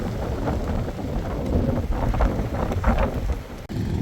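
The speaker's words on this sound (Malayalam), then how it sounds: "പറന്നു പോകും കാറ്റ്." Strong mountain wind in Spiti valley blasts continuously and loudly against the microphone, a dense low roar that surges and briefly drops near the end.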